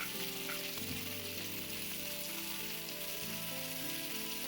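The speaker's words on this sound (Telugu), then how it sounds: "ఉల్లిపాయలు మంచి రంగు మారేదాకా వేపుకోవాలి" Onions fry in a pan for spring onion pickle, giving a steady, even sizzle that stays constant throughout beneath a faint low hum, with no voices.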